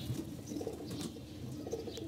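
Pigeons in a loft where pairs are nesting and hens are about to lay make soft, low, repeated cooing, close by and steady, with faint chirps and a hint of wing movement, and no voices.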